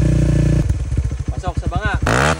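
A motorcycle engine holds about 4,000 rpm for a street-legal decibel test, a loud close drone. Someone speaks over the engine partway through.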